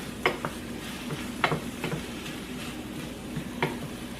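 Peppers and spinach sauté in a pan for breakfast egg muffins, giving a faint steady sizzle broken by a few sharp clicks and scrapes of a utensil stirring, with no voices.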